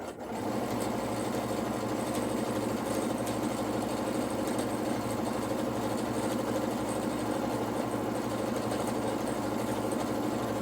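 A sewing machine stitching curves with the needle stopping down to reposition, a steady fast mechanical whir that starts at once and runs evenly and close, with no talking.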